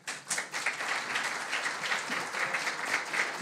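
A university conference audience gives a warm welcome with steady, full applause, many hands clapping together in a dense, even roar that holds for several seconds.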